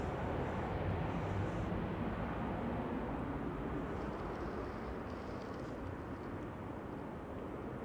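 An aircraft pushing back at Manchester Airport makes a steady, distant jet-engine rumble and whine that drifts slightly in level, with no other distinct sounds.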